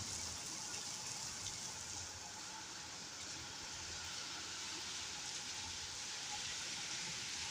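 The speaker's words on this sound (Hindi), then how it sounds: "बहुत तेज़ बारिश हो रही है अभी।" Heavy rain pours steadily in Lahore, washing down past a parking area; a dense, continuous hiss of downpour fills the whole stretch without a break, with water running underneath.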